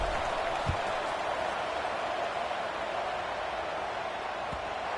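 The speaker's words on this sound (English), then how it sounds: "this crowd is buzzing after that last score" A crowd buzzes in the College Football 26 video game after a score, heard as a steady, fairly faint roar of stadium noise with no speech over it.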